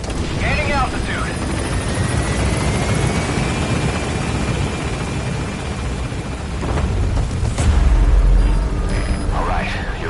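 A helicopter lifting off in Metal Gear Solid V: The Phantom Pain gives a continuous loud rotor and engine roar, with a thudding low burst near the end and brief game radio chatter over it.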